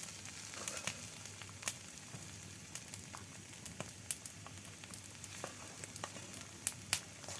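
Potatoes frying with spices in a pan, a quiet steady sizzle dotted with small crackles and occasional sharper pops and utensil taps, heard close with no one speaking.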